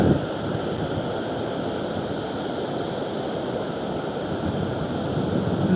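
At Pali Dam in Beed during the monsoon, water rushes in a steady, loud, unbroken roar that runs throughout, mixed with some wind noise, with no voices.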